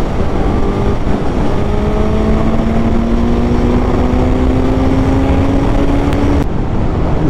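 A 2021 Suzuki GSX-S 1000 motorcycle engine with 152 hp drones steadily while riding in sixth gear, a loud, continuous hum with a slowly rising pitch that drops off near the end.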